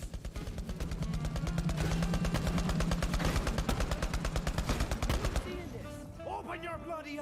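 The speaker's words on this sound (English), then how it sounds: "They're shooting at us!" Enemy gunfire in Borderlands 3 sounds as rapid, sustained automatic bursts, loud and dense, with other game sounds and voices mixed in beneath before the shooting tapers off at the end.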